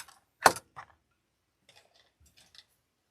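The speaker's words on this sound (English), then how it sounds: "Cut the excess off." Scissors snip excess material from a grapevine wreath: one sharp close cut followed by a smaller snip, then faint scattered clicks and rustles in a quiet room.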